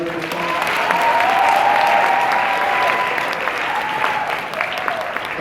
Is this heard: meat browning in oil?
no